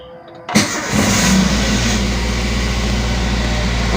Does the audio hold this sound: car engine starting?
yes